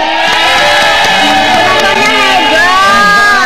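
A loud studio audience at an Indonesian TV variety show cheers and shouts continuously, with whoops and excited voices filling the room at close range.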